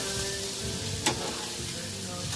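Garlic and Brussels sprouts sizzle on a Blackstone outdoor griddle as they are stirred, a steady close hiss with a single sharp scrape of a spatula partway through.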